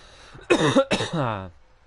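Two harsh coughs in quick succession from allergies aggravated by smoke, close and fairly loud, with a raspy tail trailing off afterward.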